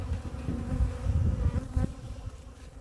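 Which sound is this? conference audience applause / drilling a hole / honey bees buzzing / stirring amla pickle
honey bees buzzing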